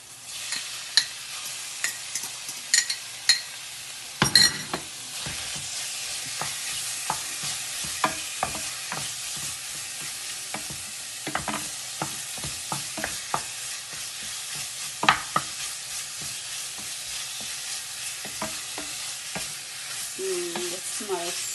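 Lobster frying in a lightly oiled pan for fried rice, a steady sizzle under frequent clicks and scrapes of a utensil stirring, close and continuous, with a louder burst as the pieces go in near the start.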